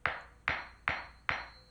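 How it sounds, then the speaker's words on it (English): Four evenly spaced metallic strikes of a 16-ounce hammer on a steel toe boot, each a sharp ringing clank that decays quickly, fairly quiet. "Let's start with a 16-ounce hammer"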